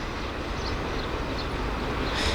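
A steady, broad rumble of a short freight train passing at Shenandoah Junction, West Virginia, constant and fairly close, with no breaks in the roar.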